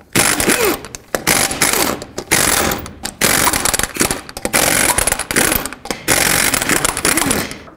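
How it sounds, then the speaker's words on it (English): A power tool on a 22 mm socket spins lug nuts off the front wheel of a 1999-2007 GMC Sierra, in about six loud, close ratcheting mechanical bursts separated by short gaps. "take off all six of your lug nuts."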